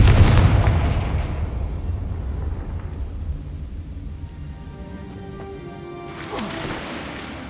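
Confringo spell explosions in the Hogwarts Legacy video game, a loud booming blast that decays into a long rumbling tail, followed by another burst near the end.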